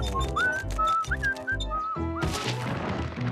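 A cartoon character whistles a short repeating tune, clear wavering notes heard over soft background music in a children's animated zoo story.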